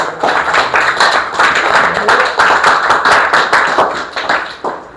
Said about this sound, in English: Give him a big round of applause once again.